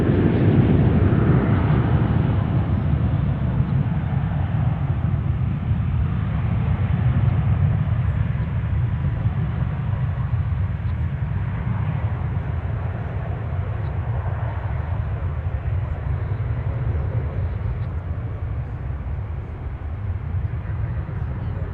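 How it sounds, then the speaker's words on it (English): A Delta Airlines Airbus A320 airliner arriving at DFW airport gives a steady, loud jet roar. The rumble holds evenly throughout without letting up. "Delta Airlines. Looks like an A320 from my eyes point of view."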